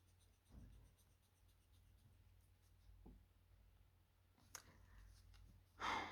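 A pen scratching across paper in short, soft strokes, faint and close in a quiet room, ending with a brief louder rustle.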